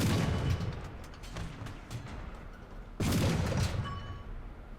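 A Churchill Mk.I infantry tank's gun in War Thunder fires in heavy, booming reports, with one especially loud blast near the end over a rumbling engine and battle noise.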